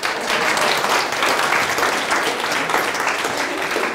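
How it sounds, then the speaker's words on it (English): Audience round of applause at a seminar, dense, loud and even clapping from a large crowd that holds steady throughout. "Give yourself a round of applause."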